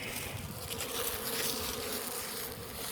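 Honeybees hum densely and continuously in an opened beehive, a close, steady swarm buzz that swells slightly and holds without pause, with no talk.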